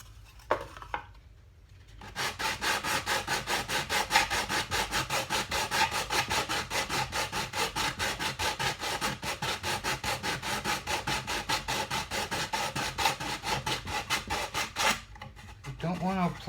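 Very thin wood sanded by hand, a rapid regular rasping of quick back-and-forth strokes that runs continuously and close up for most of the stretch, with short quiet gaps at the start and end.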